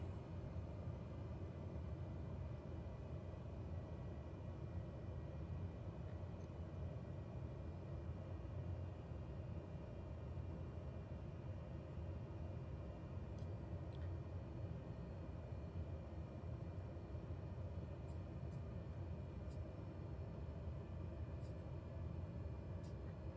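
Steady, continuous drone of the single turboprop engine of a Cessna Caravan in Microsoft Flight Simulator, a dense low rumble holding level throughout with faint high clicks near the end.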